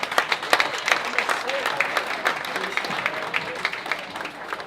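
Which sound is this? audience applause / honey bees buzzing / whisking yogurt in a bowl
audience applause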